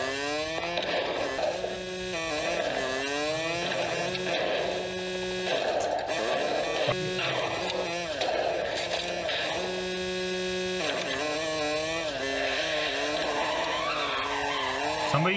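Dirt bike engines droning and revving in the Warzone video game, a steady buzzing whine that rises and falls continuously over game sound effects, with no pauses.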